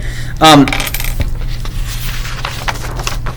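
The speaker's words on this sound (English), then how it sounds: "you're going to flip a coin and roll a dice for random traits" A single coin is flipped and lands with a sharp metallic ring that quickly fades into quiet room tone.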